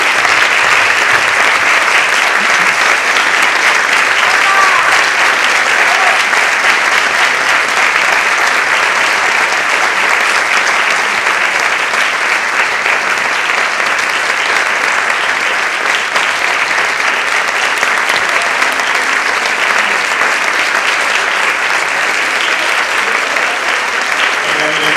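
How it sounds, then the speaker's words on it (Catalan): A large audience at a literary prize gala claps continuously, a dense, even wash of applause that stays loud and unbroken throughout without any letup. "Un fort aplaudiment."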